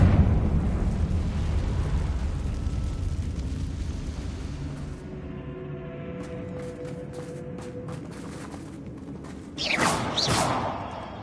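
A Confringo fire spell explodes in Hogwarts Legacy: a loud, rumbling blast fills the opening seconds and fades into a low crackling tail, with a sharper whoosh and burst near the end.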